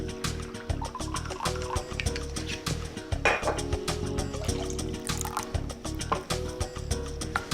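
Rice wine vinegar poured into a bowl, a thin trickling and dripping of liquid with clinks, heard close and fairly quiet under a light background.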